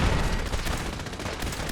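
Turrets in Fallout 4 fire on the player in a dense, continuous stream of rapid gunfire that is loud and close throughout, with no talking.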